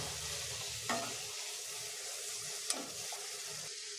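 Onions and spices sautéing in a pan for chana kurma, a steady broadband sizzle with two brief spatula scrapes against the pan, close and moderately loud, no talking.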